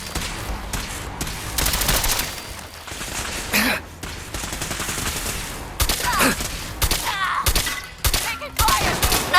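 Gunfire in Fallout 4: bursts of automatic and single shots crackle through a busy firefight, loud and close, with brief lulls between volleys and a few muffled thuds underneath.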